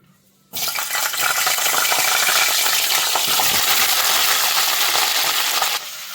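Cauliflower dropped into hot oil in a pan bursts into a loud, bright sizzle that starts abruptly and holds steady for several seconds before easing slightly, with no voices.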